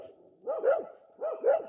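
Dogs barking in two separate bursts, each a cluster of a few overlapping barks at moderate distance, with a short quiet gap between them.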